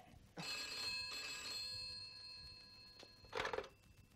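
A telephone in a 1979 kung fu film rings with a bright metallic bell trill, sounding in repeated bursts with short pauses, fairly faint and alone.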